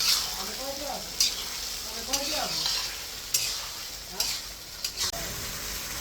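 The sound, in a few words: chicken being stir-fried (kosha) in a pan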